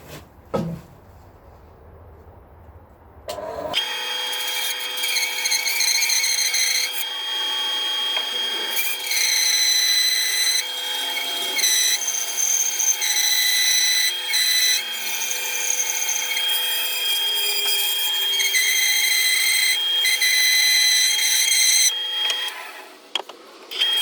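A bandsaw cuts a rough guitar neck blank from light wood for a 1958 Flying V build, running as a steady loud whine with clattering ticks and rattles for about twenty seconds after a quiet start, then stopping.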